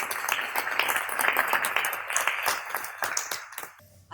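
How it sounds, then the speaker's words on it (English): An audience applauds and welcomes a speaker, Dr. Elissa Epel, to the stage at an event on emerging therapies. The clapping is dense and steady and continues for about four seconds before it drops away sharply at the end. "So please give a big round of applause to Dr. Elissa Epel"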